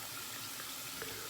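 Tap water runs steadily into a bathroom sink while a shaving brush is rinsed, a soft continuous splashing stream heard close and alone.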